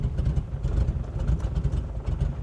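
Classic BMW 633 CSi engine running close by, a steady low rumble with uneven pulsing as it is put into gear, the drone holding throughout without a break.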